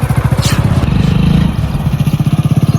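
A motorcycle engine runs close by with a loud, steady, rhythmic chugging idle throughout.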